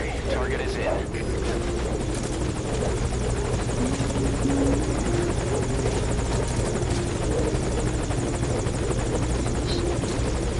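Video game helicopter idling at a landing zone, a constant loud rotor drone filling the whole stretch while people speak over it.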